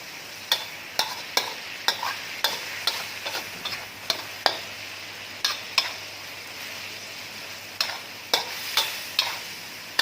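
Pork belly stir-fried with lemongrass and kaffir lime leaves, a utensil scraping the pan in steady rhythmic strokes over a soft, continuous sizzle, close and clear with no talking.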